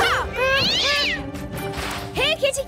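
A cat meows several times, drawn-out rising and falling cries, close and loud, with a short pause before a final meow.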